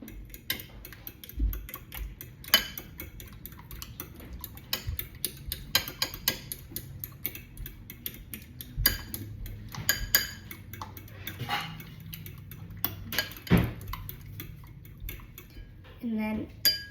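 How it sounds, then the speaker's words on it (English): Eggs being beaten for scrambled eggs, a fork or whisk clicking rapidly and rhythmically against a bowl, close and steady with occasional louder knocks, a voice speaking at times underneath. "beat your egg"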